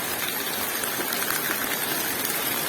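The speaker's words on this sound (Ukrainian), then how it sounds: "за 4 місяці у нас пішла, пішов отакий добрий дощик" Light rain falls steadily in the Lviv region, a continuous even hiss of drops with no pauses and no talking.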